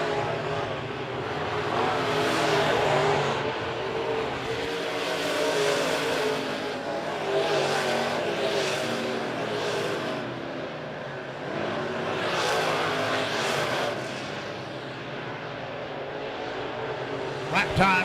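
Race cars circling Monett Motor Speedway in a feature race, a continuous loud engine roar that swells and fades as cars pass, with commentary running over it throughout.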